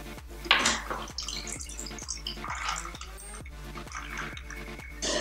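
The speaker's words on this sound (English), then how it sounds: "we're gonna pour it into an ice-filled Collins glass." A cocktail is poured into an ice-filled Collins glass, giving a liquid trickle with repeated ice clinks and drips over background music, and no one speaks.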